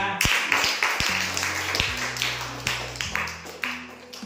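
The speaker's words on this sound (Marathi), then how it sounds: "टाळ्या" A small group at a Marathi quiz game claps for a correct answer, a handful of sharp, uneven claps close by, with a sustained hum in the background.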